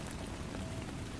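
Rain falls steadily in a dense, even hiss of drops hitting a surface, soft and constant throughout, with no voices.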